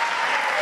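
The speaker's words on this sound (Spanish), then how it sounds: "Está muy bien, que aplaudan." Sustained audience applause at a Spanish-language political event, a dense, steady wash of clapping hands filling the whole short stretch at even loudness with no voices on top.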